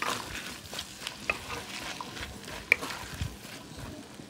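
Red onion and vegetables are stirred as they fry in a pan for cazuela sonorense: a soft, continuous sizzle with scraping spoon strokes and occasional light clicks, with no talking.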